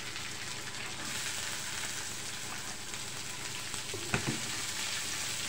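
Chopped onion and curry leaves fry in a pan after cumin seeds, a steady close hiss and sizzle with a brief louder crackle near the end.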